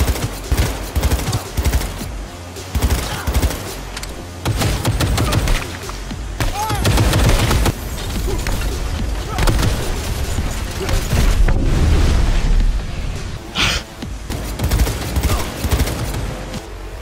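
Gunfire fills the Cyberpunk 2077 video game, with sustained loud bursts and booming shots layered with game music and effects, and someone talks over it throughout.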